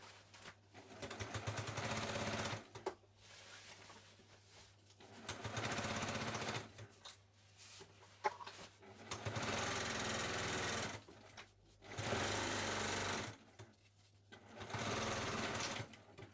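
Sewing machine stitching the last side of a lined, waterproof beach tote bag, in several loud, sustained bursts separated by short pauses, with a steady motor hum and no talk.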